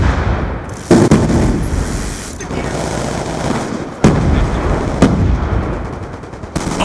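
Combat din from a Black Ops 2 multiplayer match, steady loud gunfire and rumble punctuated by a few sharp explosive bangs, with voices shouting over it.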